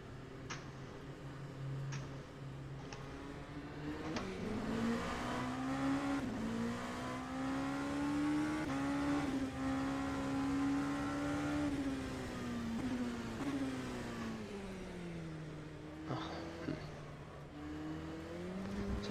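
LMP2 prototype race car engine in rFactor 2 on a wet Silverstone circuit, a steady droning tone that rises and falls through gear changes, with faint ticking clicks and rain-soaked track noise throughout.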